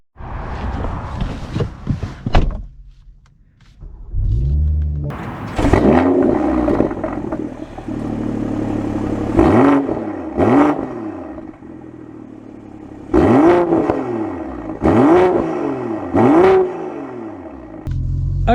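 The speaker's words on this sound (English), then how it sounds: "with the performance exhaust from BMW, from the factory that this has, it sounds pretty crazy" A BMW M340i fitted with the factory performance exhaust pulls away and accelerates, its engine rising in bursts of revving with gear changes, loud and close, with brief pauses and a clattering start.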